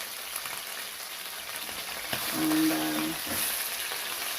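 Chicken sizzles steadily in a pan over medium-low heat, a continuous close crackle of frying with a brief stir or clatter midway.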